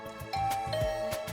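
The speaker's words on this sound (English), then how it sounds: "Not even 10 minutes had passed before I heard my doorbell ring." A two-tone doorbell chime in The Hundred Line video game rings out clearly, one short ding-dong sounding alone against a faint musical background.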